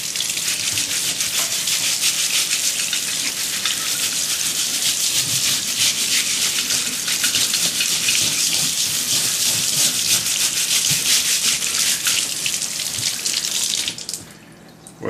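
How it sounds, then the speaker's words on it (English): A rusty metal part scrubbed under a running tap after electrolysis rust removal. Loud, continuous gushing water runs steadily for about fourteen seconds, then cuts off abruptly. "Let's just give it a little scrub here."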